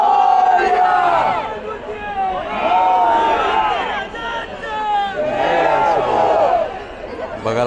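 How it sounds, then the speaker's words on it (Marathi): A huge crowd throngs the lanes at the Lalbaugcha Raja Ganpati immersion in Mumbai, with loud waves of massed chanting and shouting that rise and fall over a constant roar of voices. "लालबागच्या राजाला पाहण्यासाठीची भरमसाठ गर्दी"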